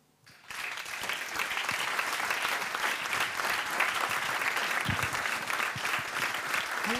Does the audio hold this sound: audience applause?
yes